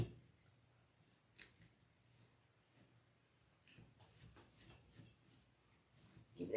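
Scissors snipping through deco mesh while trimming a tulip petal wreath on a large board, a few faint, brief cuts and rustles heard close up at low volume, with no talking.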